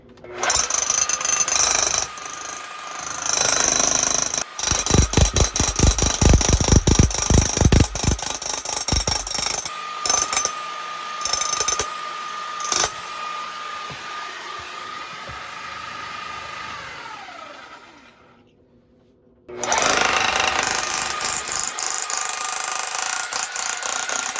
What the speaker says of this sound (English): we're going to come behind and chisel that out